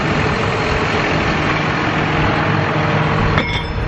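A tractor engine runs steadily on an icy farm, a loud, constant low drone from start to finish with a brief brighter rattle near the end.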